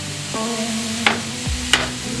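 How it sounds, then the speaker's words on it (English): Worcestershire sauce hisses and sizzles on a hot griddle as chopped cheesesteak meat is stirred, with a steady fry, two sharp scraping clanks of the spatula and a low tone. "See that sizzle?"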